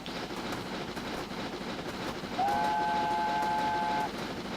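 A train rumbles steadily along a North Wales narrow gauge line in a railway video game, with one clear whistle blast of about a second and a half partway through.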